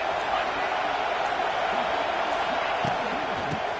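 Stadium crowd at a college football game between Indiana and Clemson roars in a continuous dense wash of noise, with a commentator's voice faintly under it.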